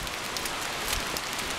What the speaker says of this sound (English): Oh well, back to the rain.